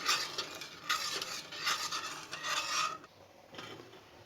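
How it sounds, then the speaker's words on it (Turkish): Sugar and water for baklava syrup are stirred in a pot, with a spoon rasping against the bottom in a quick run of strokes that stop near the end, close and fairly quiet. "iki buçuk su bardağı şekeri koydum ve 3 su bardağı ve karıştırıyoruz"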